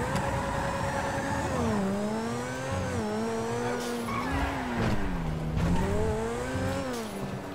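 A Lamborghini Aventador is driven in GTA V, its engine note rising and falling as the tires squeal and skid repeatedly through turns, loud and continuous without talking.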